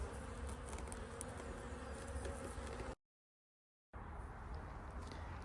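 Honey bees buzz at a beehive during a winter mite treatment, a steady dense hum that runs continuously, cuts out for about a second, then resumes.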